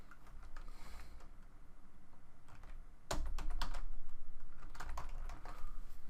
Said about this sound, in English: Sometimes you need to type it.